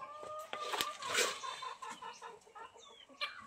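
Chickens cluck and murmur close by, with a few sharp clucks and rustling movement, fairly quiet overall and no speech.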